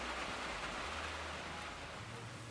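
Steady, dense rain from the train simulator Derail Valley hisses continuously at night, a loud, even wash of falling drops with no pauses.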